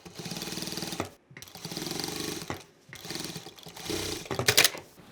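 A sewing machine stitches along a fabric edge of a simple rectangle cloth bag in three or four rapid, loud bursts, each about a second long, with short pauses between them and no talk.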